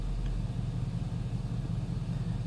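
2019 Ford Mustang Bullitt V8 exhaust in loud track mode, a deep continuous low rumble like a steady idle, heavy and even throughout with no talking.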